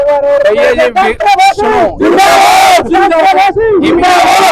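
A large, loud crowd of young supporters at a political rally, celebrating a BJP candidate's win. Overlapping shouts and chanting cheers come in surges and swell into dense roaring bursts.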